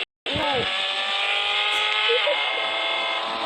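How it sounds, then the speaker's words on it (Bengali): A motorbike engine in a Minecraft-style video game, a loud, steady synthetic drone that starts abruptly after a brief silence and holds an even pitch with slight wavering, close and continuous. "বাইক দেখছি, একটা বাইক।"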